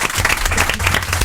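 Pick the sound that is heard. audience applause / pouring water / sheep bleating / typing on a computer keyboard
audience applause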